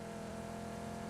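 A vehicle engine drones steadily in a PUBG match, a continuous mid-pitched hum held at an even level throughout with no speech over it.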